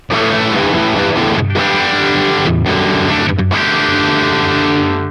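Electric guitar, a Gusta Harel S125, played through a JCM 800 style amp tone: loud, thick distorted chords ringing out with brief cut-offs between strums, alone with no talk.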